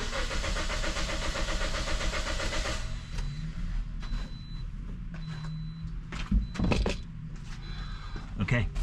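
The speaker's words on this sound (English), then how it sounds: "All right, I'm cranking." A 2010 Toyota Corolla engine cranks without starting, a steady, rapid starter churn for about three seconds that then cuts off, leaving a faint hiss while someone talks.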